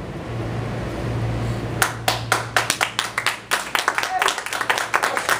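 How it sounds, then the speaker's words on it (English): Scattered, uneven clapping from an audience at a Republican political event rises after a quiet stretch of room tone, the claps close and distinct. "A smattering of applause."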